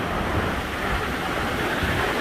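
Dense, constant rushing roar of Takakkaw Falls in Yoho National Park, broadband and unbroken, close and enveloping with no voices.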